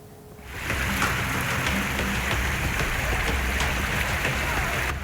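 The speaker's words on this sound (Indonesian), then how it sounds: "Diguyur hujan sehari penuh" Heavy day-long rain falls during flooding in Kota Bima, Nusa Tenggara Barat. After a quiet start it becomes a dense, loud, steady hiss of rain pattering on surfaces and keeps going without a break.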